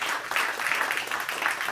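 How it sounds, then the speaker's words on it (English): Audience applause at a music-and-comedy show, a steady dense patter of many hands clapping close and fairly loud throughout, with a faint voice mixed in. "clap if you have children"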